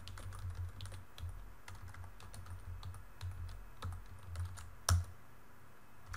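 Computer keyboard typing a database query for a Parquet table, with quick irregular key clicks, close and fairly quiet, and one sharper keystroke near the end.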